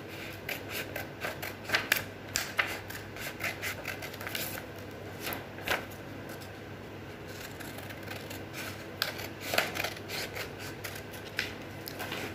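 Scissors snip through a paper pattern for a paper basket, a steady run of short crisp cuts and rustles close by, fairly quiet, with no talking.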